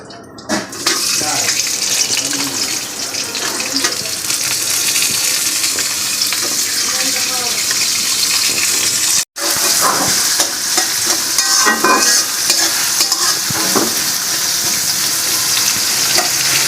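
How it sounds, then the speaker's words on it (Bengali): Sliced onions frying in white oil for beresta, a loud, close, continuous sizzle and crackle that cuts out for a split second before resuming just as steadily. "সাদা তেল বেরেস্তা ভাজার জন্য।"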